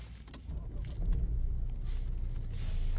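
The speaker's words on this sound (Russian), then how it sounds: "Запускается автомобиль с кнопки." A Geely Coolray car started by push button, with a low engine rumble swelling into a steady idle, heard from inside the cabin over a few brief clicks.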